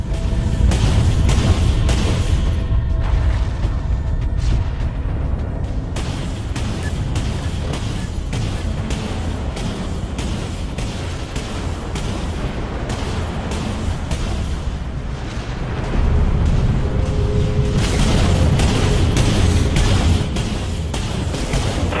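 Missile and torpedo launches in the Dreadnought spaceship battle game, heavy booming whooshes and bursts layered over a constant loud roar of combat, with brief spoken lines now and then.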